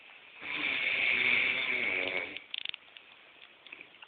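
A man's loud, rasping snore fills the first couple of seconds, followed by a few soft clicks and snuffles nearby.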